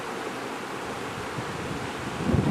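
Steady rushing water spills over an old dam of piled logs into a creek beneath a small footbridge in Yellowstone, a constant broadband wash that swells slightly louder near the end, with no voices.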